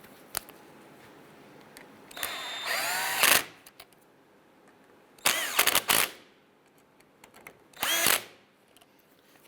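A power tool drives bolts snug on a window regulator in a 1995-2001 Ford Explorer, three separate short whirring bursts with quiet gaps between.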